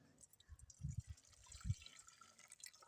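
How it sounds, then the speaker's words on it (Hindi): Water from boiled chickpeas is poured off into a vessel in a home kitchen, heard as faint, soft splashing and dribbling with a few low glugs, quiet and close. "चने का जो पानी है ना वो यहाँ पे रिमूव करके निकाल लेंगे"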